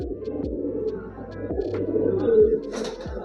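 A pigeon coos nearby in a repeated rhythm of low, soft throaty calls, about one every half second. Faint background noise sits under the calls, and a brief sharper sound comes near the end.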